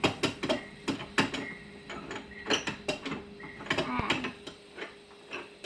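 Ratchet clicks from a wrench driving an inch-and-a-half deep well socket on the front suspension of a Honda 300 4x4 ATV, heard in quick irregular bursts of sharp mechanical ticks, close and moderately loud.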